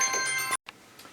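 Mobile phone ringing indoors, a bright electronic ringtone that cuts off abruptly after half a second, followed by faint quieter tones and low room noise.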